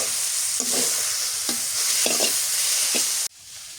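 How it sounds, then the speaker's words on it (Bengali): Leafy greens stir-fried in a pot over a village-style fire: a loud continuous sizzle with several distinct scraping stirs at a steady pace, ending suddenly as the sizzle drops away. "শাক ভাজা হয়ে গেছে"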